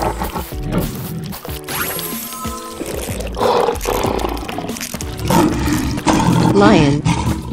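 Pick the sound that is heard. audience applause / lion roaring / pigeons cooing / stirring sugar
lion roaring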